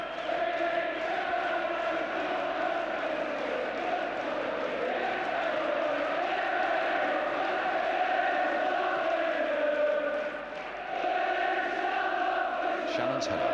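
A large crowd of Manchester United supporters roars and chants continuously at an FA Cup Final against Southampton, a dense, steady stadium din heard from a distance.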